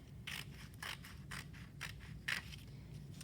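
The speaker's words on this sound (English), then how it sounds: "So be very careful as you're cutting." Scissors snip through folded paper for a handmade Chinese New Year lantern, giving about seven crisp, evenly spaced cuts, fairly close and quiet against a low room hum.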